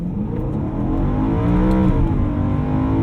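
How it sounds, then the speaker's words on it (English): A tuned 2010 BMW E92 M3 on Michelin Pilot Super Sport tyres spins its wheels in second gear, a loud, steady close-up engine roar that builds slightly over three seconds with no talking. "A little bit of wheel spin in second."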